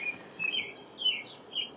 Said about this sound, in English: This beautiful bird started singing really loud as soon as it was 7 o'clock